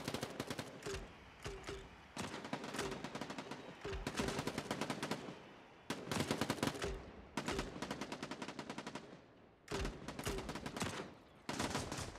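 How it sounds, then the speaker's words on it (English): Repeated bursts of automatic gunfire in a shooter game, rapid rattling volleys separated by short pauses, loud and close throughout. "Looks like Jay's three was taken out by gunfire"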